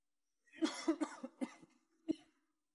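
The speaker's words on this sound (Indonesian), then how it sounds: "Kenapa sepertinya batuknya semakin parah?" A woman coughs in a quick burst of four or five harsh coughs, then one more after a short pause, close and clear against silence.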